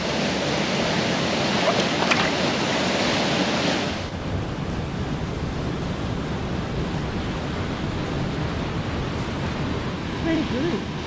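Mackenzie Falls, the most powerful waterfall in the Grampians of Victoria, Australia, gives a loud, steady, broadband roar of falling water close by. After about four seconds it drops to a softer but continuous rushing wash.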